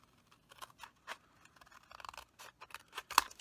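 Scissors snip through embossed cardstock while trimming an A2 barn-shaped card, a run of quiet, close crisp cuts spread over a few seconds, with one sharper snip near the end.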